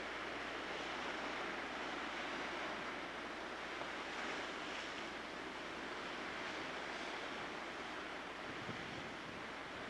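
Ocean surf washes into the Thunder Hole chasm in Acadia National Park, Maine, a faint, continuous rushing swell mixed with wind and no voices.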